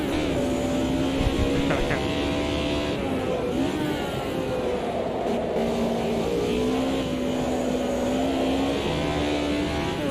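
A BMW naturally aspirated inline-four race car engine in the sim racing game Automobilista 2 sings steadily through the gears, with rising and falling pitch sweeps as it revs and shifts, loud and continuous throughout.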